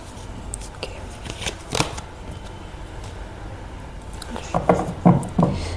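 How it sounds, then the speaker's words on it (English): Tarot cards shuffled and handled on a reading table, soft papery riffles and slaps scattered through the clip, growing louder and denser in a cluster of crisp taps near the end. "let me just adjust the cards, they are too far"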